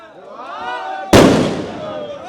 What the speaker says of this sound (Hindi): आतिशबाजी चला थे जमे कार्यकर्ता मन सब।